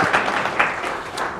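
Audience applause at a talk on the history of Black music in America, a sustained, moderately loud wash of many hands clapping with a few sharper accents, steady throughout with no voices over it.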